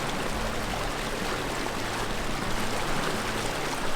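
Warm water flows over the travertine terraces at Pamukkale in Hierapolis, Turkey, as a continuous close rushing and trickling wash, steady in level with no voices.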